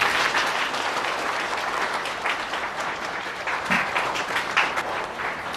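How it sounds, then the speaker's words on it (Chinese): Audience applause greets two women entering at a staged event, a dense, steady wash of many hands clapping close and loud throughout, without a break. "就让我们用最热烈的掌声有请"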